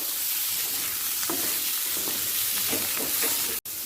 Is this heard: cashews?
yes